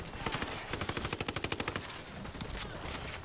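Automatic gunfire in the video game Ghost Recon Wildlands, fired from a vehicle while ramming, sounds as a rapid burst of evenly spaced shots amid a dense, noisy game mix.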